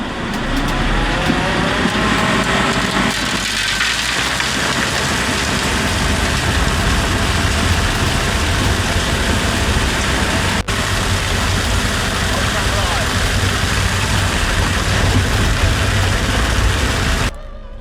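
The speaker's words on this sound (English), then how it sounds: "there's a cement lorry going to turn up any minute." A cement lorry's heavy diesel engine idles close by with a steady, loud low rumble that runs unbroken for the whole stretch, with no talk over it.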